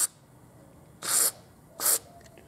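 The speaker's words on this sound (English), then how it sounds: "I'm just going to try flooding it with WD-40 and see what happens" Two short bursts of WD-40 sprayed from its nozzle onto a graphics card fan on a workbench, each hiss lasting about a quarter second, close and fairly loud against a quiet background.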